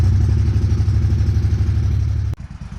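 A 1996 Craftsman riding lawn mower with an 18hp Kohler engine runs close by with a loud, rhythmic low chugging, then drops abruptly to a quieter, lumpier idle near the end.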